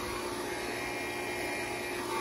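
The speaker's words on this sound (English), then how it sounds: "I'm gonna go ahead now and turn my vacuum pump off" A vacuum pump runs during a Daikin mini split installation, giving off a constant, even mechanical hum with a thin high whine on top and no change in rhythm.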